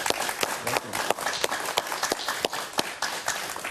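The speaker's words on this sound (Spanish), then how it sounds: "Un aplauso para Frank Mora, por favor." A television studio audience gives a brisk round of applause to welcome a guest on a Spanish-language talk show, with dense, even clapping from start to finish.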